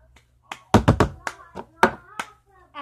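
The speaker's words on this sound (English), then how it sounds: "After you slap it down and clap" A plastic cup is slapped down on a table and hands clap in a cup-song pattern, a close series of sharp, uneven taps and claps with brief pauses between hits.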